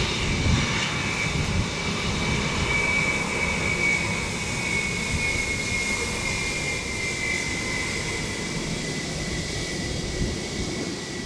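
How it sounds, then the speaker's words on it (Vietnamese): A Vietnam Airlines Airbus A321 slowing on the runway after landing at Tan Son Nhat, a distant, steady jet roar with a faint whining tone that holds and gently fades, with no voices. "Và bây giờ chiếc Airbus A321 đã giảm tốc."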